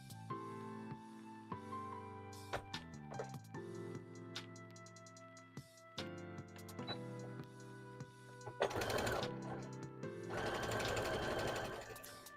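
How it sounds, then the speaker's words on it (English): Sewing machine stitching a long fabric strip in a home sewing room, with bursts of rapid mechanical whirring that start and stop, building to longer continuous runs near the end, heard close and alone. "so now we'll crank out these, where we just sew the long strip"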